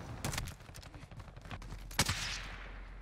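Video game gunfire rattles out in several short bursts and single cracks, fairly faint, with one sharper, louder shot near the end.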